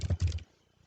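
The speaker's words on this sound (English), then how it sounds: "you can type." Several quick keystrokes on a computer keyboard while text is being typed into a document, a short close burst of clicks that stops abruptly, followed by near silence.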